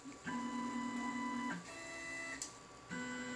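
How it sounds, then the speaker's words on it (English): Ender 3 3D printer running a print, stepper motors whining in shifting steady tones that change pitch every second or so, close and alone with no talking. "I've already got my Octopi hooked up, so I'm going to try to print."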